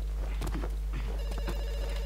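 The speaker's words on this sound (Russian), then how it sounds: "Телефон звонит." A telephone rings inside the horror game Amnesia: White Night, sounding as repeated bell-like trills over a low steady hum, with faint footstep-like thumps.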